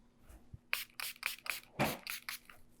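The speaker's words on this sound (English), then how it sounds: "I'll spray the makeup eraser." A spray bottle of makeup remover pumps out a quick series of short, hissing sprays, about eight bursts in a row, close and fairly loud.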